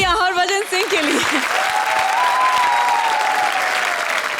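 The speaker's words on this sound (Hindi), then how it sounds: "जोरदार तालियां हरभजन सिंह के लिए।" Studio audience applause on a Hindi comedy television show, a loud, dense, sustained burst of clapping and cheering, with a voice and music at the start and a held musical tone running under it.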